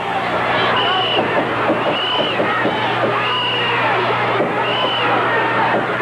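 A 1979 Memphis wrestling crowd hollers and roars in a loud, steady arena din, with shouts rising over constant babble throughout.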